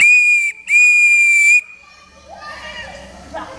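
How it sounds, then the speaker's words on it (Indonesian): A whistle on the tip of a shiny plastic toy flag is blown close up: a short shrill blast, a brief gap, then a longer steady blast, followed by faint background noise. "ujungnya ada peluit yang bisa ditiup, bisa bunyi peluitnya."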